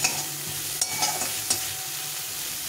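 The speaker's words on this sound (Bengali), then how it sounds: "মাছটা অনেকটাই ভাজা হয়ে গেছে, আর একটু ভেজে নিয়ে নামিয়ে নেব" Small local freshwater shrimp, pond-caught, sizzle and crackle in a frying pan alone, with a steady hiss punctuated by a few sharper pops and stirring scrapes.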